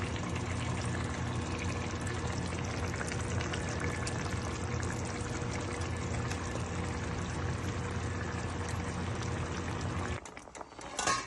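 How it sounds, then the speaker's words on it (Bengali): Hot water poured steadily into a pan of cooked spice masala for a steamed egg and capsicum dish, a continuous close rushing pour that stops near the end, with no speech. "এখন আমি গরম জল ঢেলে দিব"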